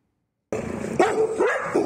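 Several malnourished rescued dogs bark repeatedly after a moment of silence, close and loud, with overlapping yips and whimpers, in Bosa.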